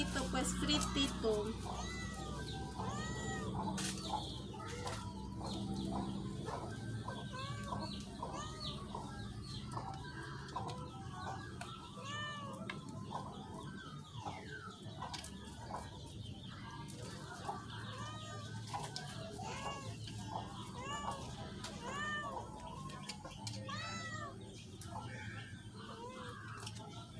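A cat meows repeatedly, wanting the fried fish being prepared for dinner, its calls mixing with clucking chickens and talk throughout a busy home setting.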